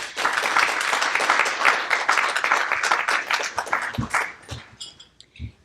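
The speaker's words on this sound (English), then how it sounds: "Would you guys give him another round of applause?" An audience at a referendum debate on a 1-mill education levy applauds in a dense, sustained burst of clapping that thins into a few scattered claps near the end.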